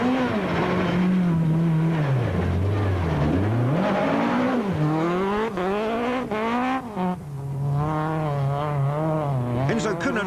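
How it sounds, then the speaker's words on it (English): A Sasol dual-fuel Volkswagen Golf rally car revs hard through a mountain trail stage, its engine note rising and falling steadily as it climbs through the gears, loud and close throughout with no talk over it. "The Sasol dual-fuel Volkswagen Golf of Habig and Judd are battling with tyres and handling."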